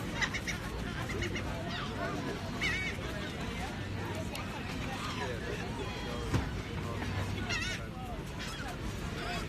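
Geese honking in a noisy outdoor setting, calls rising repeatedly over steady background din and a voice talking throughout.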